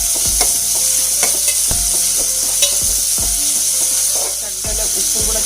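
Green chili, ginger-garlic paste and curry leaves sautéing in a pan for a green gram curry, with a steady close sizzle and repeated scraping stirs of a spoon against the pan.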